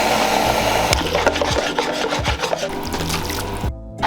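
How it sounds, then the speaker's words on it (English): Pasta aglio e olio sizzles in a frying pan with a loud, steady hiss, broken by rhythmic scraping and stirring strokes, heard up close with no talking. "You hear that frying?"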